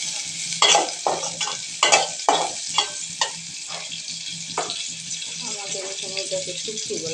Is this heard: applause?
no